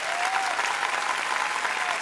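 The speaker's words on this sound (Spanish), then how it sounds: "Es el momento de que la gente te aplauda." A studio audience at a televised singing audition applauds steadily for a contestant after her performance, a dense, even wash of clapping held at close range for about two seconds with no speech.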